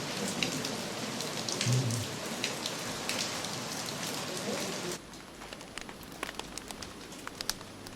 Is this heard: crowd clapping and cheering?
no